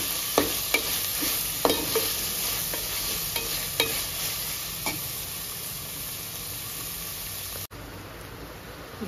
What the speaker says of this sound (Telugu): ఇప్పుడు బాగా ఫ్రై చేసుకోవాలి ఈ తాలింపులో మెంతి కూరని.